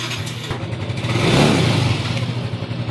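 A motorcycle engine fitted with a repaired exhaust pipe revs up close by, its rough mid-range drone swelling to a peak and easing back down, with no talking.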